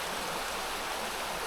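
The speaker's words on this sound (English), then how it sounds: "There is creek over there." A creek flows steadily on a motorcycle riding range, a close, even wash of running water with no breaks, heard alone.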